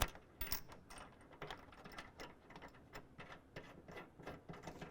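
A bolt is hand-tightened down through a clamp on a soft roll-up tonneau cover rail of a 2024 Ford Ranger, giving a quiet run of rapid ratcheting clicks, close and steady throughout.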